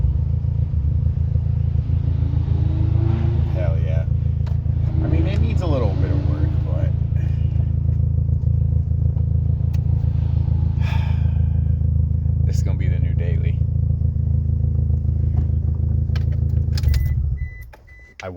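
An old car with a revived battery and alternator runs with a constant, close low engine hum while people talk over it. A few small clicks come through before the engine cuts out near the end.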